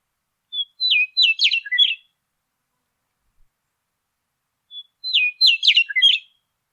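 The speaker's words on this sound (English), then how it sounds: "Their song is described as flute-like" Two short bursts of clear, high whistled bird song, each a quick run of fluting notes, separated by a few seconds of silence.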